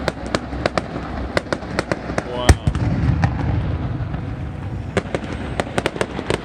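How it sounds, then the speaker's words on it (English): Fireworks go off over a boat parade along the Italian coast, with sharp cracks and pops at an irregular rhythm, one louder bang partway through and a rumbling backdrop, and a voice briefly exclaims. "This entire parade fireworks presentation lasted a full hour."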